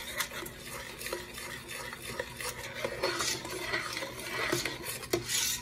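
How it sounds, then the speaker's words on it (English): Sugar is stirred into bubbling strawberry jam in a pot, giving a soft, steady scraping and sloshing with light spoon knocks and faint sizzle throughout, fairly quiet and close. "So now we need to mix it in real well, and then it will start to boil again."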